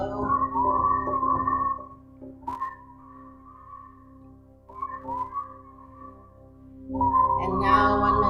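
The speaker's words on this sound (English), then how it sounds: "The whistle is meant to be calming, so let your heart rate slow." A soft, sustained whistle drifts through slow, calming tones, with a louder held passage at the start, quieter stretches in the middle and a swell again near the end, no voices present.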